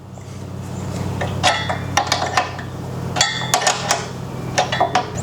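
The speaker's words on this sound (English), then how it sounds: "So we're gonna loosen these nuts." Wrench work loosening the bearing lock nuts on a Rolux reel mower gives sharp metallic clinks and taps, scattered in small clusters over a steady low hum, close and moderately loud.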